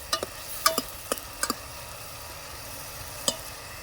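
Tomato masala is sautéed in a pan: a low sizzle sits under a handful of sharp, separate spatula scrapes and taps, clustered early and then one more after a pause.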